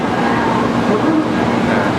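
A train rumbles steadily into a station in Japan, a continuous loud roar with a faint squeal partway through.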